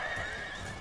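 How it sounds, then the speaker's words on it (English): Light horse cavalry in Empire Total War, hooves clip-clopping in a soft, steady patter with horses whinnying under a background of battle noise, fairly faint and continuous throughout. "This is light horse, so I'm hoping combination there is going to be enough."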